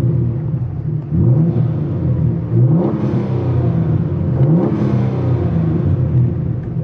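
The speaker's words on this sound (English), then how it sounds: "fear not when I start revving it." A warm Ford Taurus SHO engine fitted with a boost controller bypass is revved without load, rising from a steady idle rumble in three or four quick climbs and settling back between them, close and loud.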